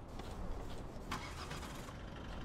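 A car pulls away in the video game Contraband Police. Its engine hums and rumbles steadily and fairly loudly for a couple of seconds, with no voices over it.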